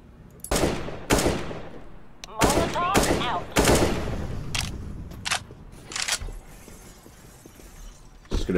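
Gunfire in the video game CS:GO, with a string of sharp, loud shots in separate bursts spaced irregularly, some ringing out briefly, and faint voices underneath.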